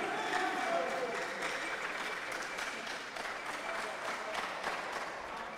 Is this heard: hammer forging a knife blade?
no